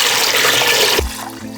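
Tap water runs into a heavy pot holding eggs for hard boiling, a steady broadband rush that cuts off after about a second, leaving a low resonant hum.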